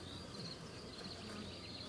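Honeybees around a hive super during a spring honey harvest, a faint steady buzzing drone that runs continuously without clear breaks.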